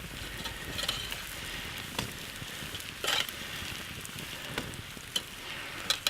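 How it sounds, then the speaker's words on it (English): Butter sizzles on bread toasting over a campfire, a faint, steady crackling hiss broken by a few small pops and snaps, with no voices. "Butter is sizzling away on that bread,"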